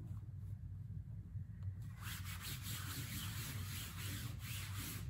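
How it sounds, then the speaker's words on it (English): Steady close rubbing of an adhesive stencil pressed onto a fabric tote bag, a continuous dry scrubbing texture that grows brighter and busier after the first couple of seconds, with no talking. "rub it in there so the adhesive is nice and secure on my bag"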